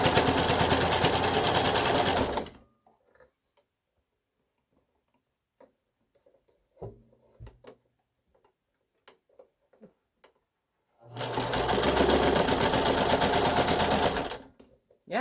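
A sewing machine stitching a Wednesday Addams dog costume runs in two steady, fast-whirring bursts, with quiet handling clicks and small taps between them.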